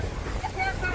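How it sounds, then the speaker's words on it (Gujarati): A boat moves across the sea off the Jeddah coast, with a steady rumble of wind and water against a low engine drone, while a voice talks over it. "બોટમાં બેઠા છે અને બોટમાં બેસીને નીકળ્યા છે"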